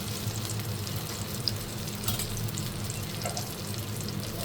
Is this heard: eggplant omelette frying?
yes